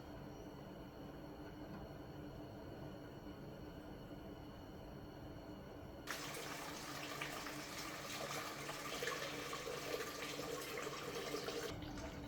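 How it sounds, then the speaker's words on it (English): Coolant drains from a classic car's radiator into a bucket, a quiet steady trickle that turns to a louder rushing splash halfway through, with no talking. "Now if you have a valve at the bottom of your radiator, you can open that up to drain the coolant, the antifreeze."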